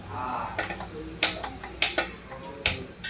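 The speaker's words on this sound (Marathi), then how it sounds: "लायटर ना खराब झालाय," A faulty lighter repeatedly failing to light a kitchen gas stove, with three or four sharp, bright clicks spaced about half a second apart over quiet room background.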